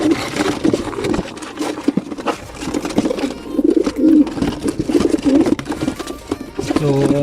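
Racing pigeons at a home loft giving soft repeated coos, close and fairly loud, mixed with flapping, shuffling and handling noises and some talking.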